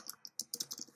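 Computer keyboard typing text into a label in an iOS app design, heard as a quick, close run of crisp key clicks in an uneven rhythm.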